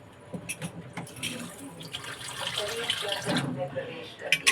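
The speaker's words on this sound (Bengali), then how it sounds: "আলুটা একটু সিদ্ধ হতে জল লাগবে জল আবার ঢাকা দিয়ে দেব" Water poured into a pot of potatoes set to boil, splashing and rushing for a few seconds in a home kitchen, with a faint voice in the background.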